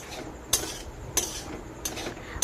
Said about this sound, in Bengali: এইভাবে আমি নাড়াচাড়া করে নিচ্ছি